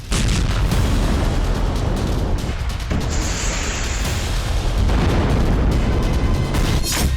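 Booming explosions from Israeli missile strikes on Iran just before dawn, a loud, dense, continuous roar with repeated heavy thuds and crackling bursts and no talking.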